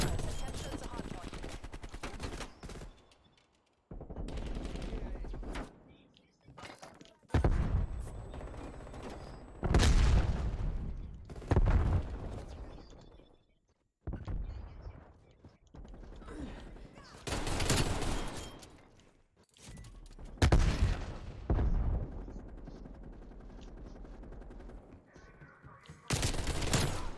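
A Type 63 rifle fires in Black Ops Cold War during a Hardpoint match. Repeated loud, close bursts of shots are separated by short quiet gaps, with occasional booms and game sounds between them.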